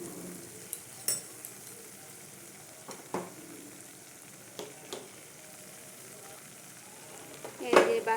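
Spice paste with Kashmiri chilli frying in a pan for a Bengali fish curry, a low steady sizzle broken by occasional spoon scrapes and clinks against the pan, close by, with a louder clatter near the end.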